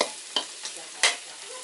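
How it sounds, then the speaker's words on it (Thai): Chili, garlic and shallots roast in a pan, a soft sizzle under three or four brisk scraping stirs that come at short, uneven intervals. "นี่คือการคั่วพริกกระเทียมหอมพอประมาณนะครับ"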